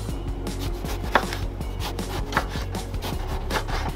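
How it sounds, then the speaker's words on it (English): Eggplant being sliced with a knife outdoors on a dusty mountain campsite, a few crisp cuts against a board standing out over steady background noise. "Slice your eggplant"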